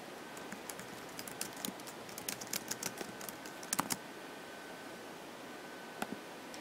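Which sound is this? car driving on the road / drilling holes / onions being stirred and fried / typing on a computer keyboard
typing on a computer keyboard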